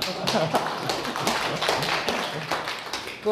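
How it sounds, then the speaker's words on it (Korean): An audience at a lecture on reading the Analects gives celebratory clapping, brisk and continuous hand claps at moderate distance, with some voices blended in. "축하 박수 한번 해주세요"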